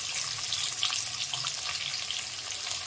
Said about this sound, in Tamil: இப்போ வந்து வெங்காயம், சின்ன வெங்காயம் அதை போட்டுக்கோங்க.